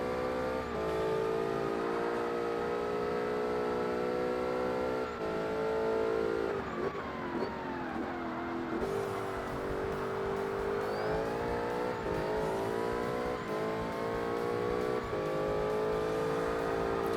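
A race car engine in the Forza Motorsport video game revs hard and loud, its tone climbing through gear changes with rising and falling harmonics across a long continuous run, no voices over it.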